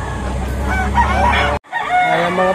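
Rooster at a livestock market in Lipa, Batangas, crowing loud and close in harmonic bursts, broken by a brief cutout before a second crow follows.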